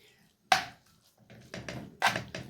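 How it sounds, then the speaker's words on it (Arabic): A knife chops ingredients into small pieces for a liver dish: four or five crisp, separate thuds on a board, with brief pauses between them, close and fairly quiet. "بروح مقطعه حتت صغيره على اللحمه مع الفلفل والبصل"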